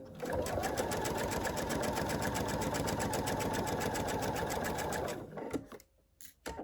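A sewing machine runs steadily, stitching a batik snowflake quilt with a rapid, even needle rhythm for about five seconds before stopping, followed by a few faint handling clicks.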